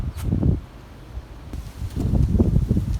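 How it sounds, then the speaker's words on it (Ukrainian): Strong autumn wind gusts in a village buffet the microphone in deep, rumbling bursts that swell, ease off, then return louder, with no one speaking. "І сьогодні скажений вітер"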